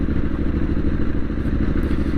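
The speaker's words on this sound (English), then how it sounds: "You can feel and hear what this bike's up to" Triumph Street Scrambler 900 motorcycle engine while riding, a loud, steady throbbing rumble with a rapid pulsing beat, heard close and alone without talk.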